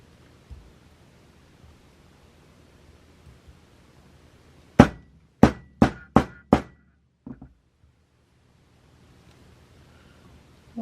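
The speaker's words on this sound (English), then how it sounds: "Get your hammer." Five sharp, loud hammer strikes land in quick succession on a riveted crystal resting on a mat, flattening it, followed by a couple of softer taps in an otherwise quiet room.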